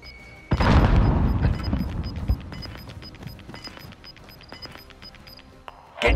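A grenade goes off in Call of Duty: Modern Warfare, one heavy boom that lingers as a rumbling, crackling tail with scattered debris clicks before a sharp sound at the end.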